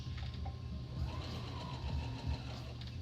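A home sewing machine stitching around a garment neckline with a 1/4 inch presser foot, a steady low mechanical whir and hum running continuously and fairly quietly, with no talking.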